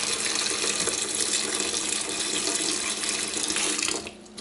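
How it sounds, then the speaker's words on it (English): Water from a kitchen tap filling a cooking pot, a loud, steady rushing stream that runs for several seconds and then cuts off near the end, with no talking. "Now I'm going to add just enough water"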